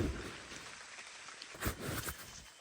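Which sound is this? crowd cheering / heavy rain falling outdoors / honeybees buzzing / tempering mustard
heavy rain falling outdoors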